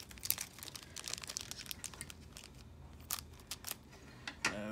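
A plastic bag from a Loyal Subjects Power Rangers mystery box is crinkled and snipped open with scissors, giving close, quiet rustling and sharp crackling bursts with a few distinct snips near the end.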